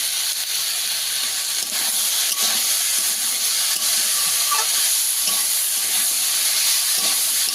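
Chalta (elephant apple) dal with salt and turmeric is sautéed in a pan in village-style home cooking, giving a steady close sizzling hiss broken by light scraping stir strokes, with no talking.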